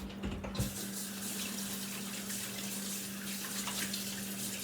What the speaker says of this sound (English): Let me rinse my hands really quickly.